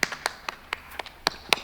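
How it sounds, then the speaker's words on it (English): A small round of applause: a few scattered, sharp hand claps at uneven intervals, fairly close and moderately loud, with no talk. "Can we please have a round of applause for Warwick?"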